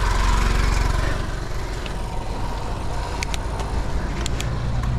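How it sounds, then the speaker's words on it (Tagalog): A motorcycle engine runs behind a cyclist on a road, a steady loud low drone under wind noise throughout, with a few brief higher tones partway through. "May motor sa likod."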